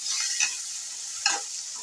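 Finely chopped tomatoes frying in oil in a pan for a spicy avalakki dish, a soft continuous sizzle with two brief bursts of stirring, close up and without talk.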